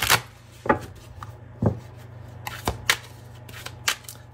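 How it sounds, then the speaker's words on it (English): A Celestial Cosmos tarot deck is shuffled by hand in a series of crisp, papery riffling bursts with short pauses between them, close and fairly quiet. "let's go ahead and clarify this with some tarot. I'll be pulling from my Celestial Cosmos tarot deck"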